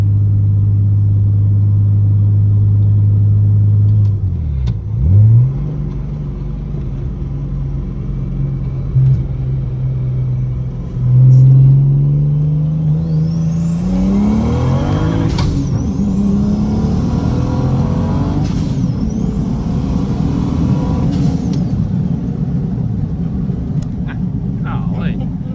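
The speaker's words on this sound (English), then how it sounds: "We're gonna roll through some gears here after anti-lag." Big single turbo BMW 335i with a manual gearbox and anti-lag at 26 psi, heard from inside the cabin as its engine drones, then climbs through gear pulls with sharp turbo whistles and popping anti-lag crackles, loud and close.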